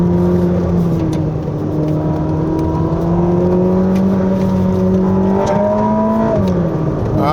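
A deep, steady eight-cylinder engine note from a Ferrari SF90 Stradale on a winding road drones continuously at high volume, its pitch climbing slowly and then dropping briefly near the end, with no talk.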